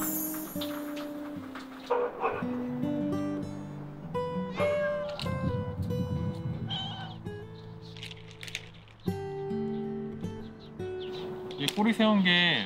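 Several cats meow and yowl repeatedly in an empty village, some close and loud, with voices talking in the background at times.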